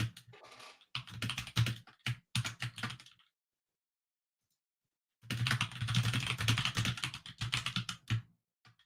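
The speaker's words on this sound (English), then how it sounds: "I'm gonna type shout." Typing on a computer keyboard: bursts of quick, close key clicks, a pause of silence, then a longer run of rapid typing.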